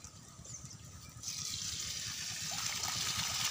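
Water gushes from an opened irrigation pipe valve into a rice paddy, starting as a quieter trickle over low rumble and swelling into a steady hissing rush after about a second.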